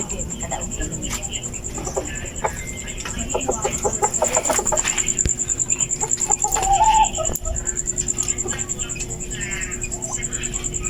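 Chickens cluck and chirp in a busy coop, with a steady high whine and some background voices throughout.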